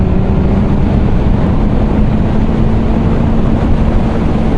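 BMW S1000R naked motorcycle cruising in sixth gear, a loud steady engine drone mixed with heavy wind rush, continuous and close throughout.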